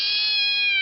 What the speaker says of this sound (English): Domestic cat, she does have kittens in there, but she was extremely vicious.